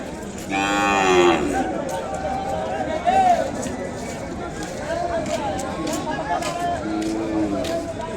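Cattle, including Ongole bulls and calves, moo loudly several times amid a busy crowd at Kodad cattle market, with people chattering and livestock calls overlapping in a noisy market scene.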